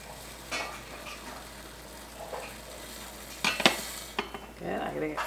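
Boiling liquid poured into a pan on a home stove, followed by metal clinks of a spoon stirring and faint sizzling, with a few soft knocks of cookware.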